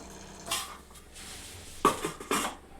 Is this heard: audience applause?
no